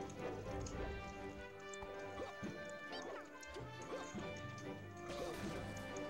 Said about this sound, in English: sending out smash attacks.